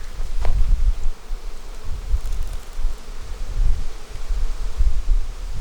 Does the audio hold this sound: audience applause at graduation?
no